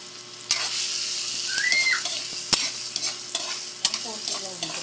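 Ginger and onion sauté in a pan for papaitan, a constant crackling sizzle broken by several sharp knocks and scrapes of a spatula, with a faint whistle briefly in the background.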